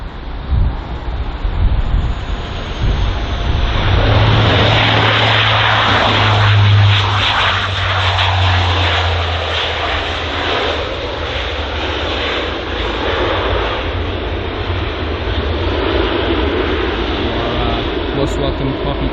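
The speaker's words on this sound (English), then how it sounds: "So if you'd like small aircrafts like that, like the Dash 8 Q400, you're in luck, because here is the Witherow aircraft arriving from Bergen." A Dash 8 Q400 turboprop arriving at London Heathrow, a loud, sustained propeller and engine roar with steady broadband rush and a low drone, lasting throughout while someone talks over it.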